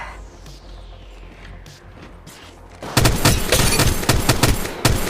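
Gunfire in the Apex Legends video game, quiet scattered shots at first, then a loud dense burst of rapid automatic fire and booms that keeps going to the end.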